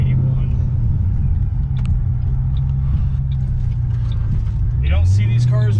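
2006 Ford Mustang Saleen Extreme S281 engine running at a steady low idle rumble, close and loud throughout, with someone talking over it and a brief rise in engine pitch near the end.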